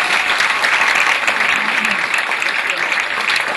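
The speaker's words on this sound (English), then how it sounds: "I want to give a big round of applause for" An audience at a debate applauds the debaters with loud, continuous clapping that fills the room for the whole stretch, a thick crowd wash with some voices underneath.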